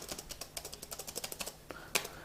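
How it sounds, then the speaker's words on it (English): Typing on a physical keyboard, with a quick, fairly regular run of close key clicks, a short pause, then a couple of sharper final taps. "I could type either using the physical keyboard"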